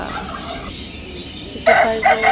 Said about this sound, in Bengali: এই পাশে একটা মোরগ আছে যে পাশে মোরগে সকালে ভোরবেলা থেকে ডাকাডাকি করে